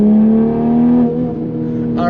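A modified Toyota Supra revs hard up close, its loud engine roar rising and then dropping back, with exhaust pops near the end, under excited voices.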